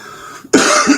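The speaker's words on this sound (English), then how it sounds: "Trying to cough and get it over with." A single sharp cough bursts out close to the microphone after a quiet moment, brief and loud, trailing off with a faint throaty rasp.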